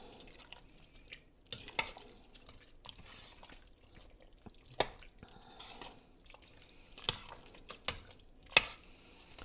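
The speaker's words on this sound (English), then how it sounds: "And what you're going to do is you're going to stir it." Greens being stirred in an Instant Pot with a half cup of vinegar and sugar, giving scattered soft clinks, scrapes and wet sloshes at an irregular rhythm, fairly faint and close, with no talking.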